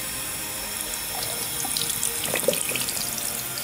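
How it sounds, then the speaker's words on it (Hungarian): Cold water from a kitchen or bathroom tap pours steadily over an iPhone 7, a continuous close hiss with small splashes and gurgles building slightly toward the end. "nem tudom, milyen vizet engedjek, mondjuk engedek hideget"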